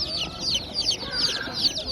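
At an outdoor poultry market selling chicks and young roosters, birds keep up dense, high, overlapping peeps and clucks that are continuous and fairly close.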